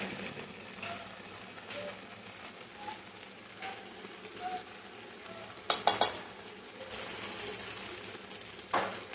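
Country chicken curry being stirred in a pan with chili powder and oil, a soft steady sizzle with faint scraping strokes and a few sharp clinks of the spoon against the pan.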